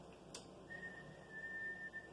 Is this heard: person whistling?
yes